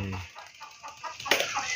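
A chicken being caught gives a few quick, startled clucks amid faint rustling and a brief flurry of movement, heard at close range.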